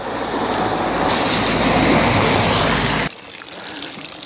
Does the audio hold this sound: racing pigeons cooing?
no